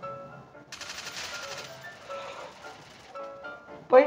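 Rapid automatic gunfire from a Free Fire battle royale mobile game rattles in a sustained burst, then thins out, with one sharp shot at the end.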